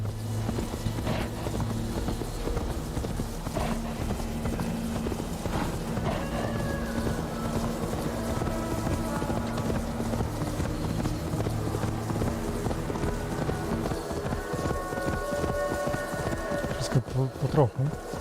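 Horse galloping in the Assassin's Creed Valhalla video game, a steady run of hoofbeats under constant game ambience, with louder hoof and movement thumps near the end.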